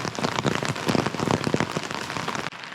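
Heavy rain pours steadily onto a tarp, beach umbrella and shelter at Rock Lake during a rainstorm, a dense close patter with scattered louder drops, no talk, stopping abruptly near the end.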